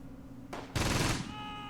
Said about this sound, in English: But still a lot of nasty shots over here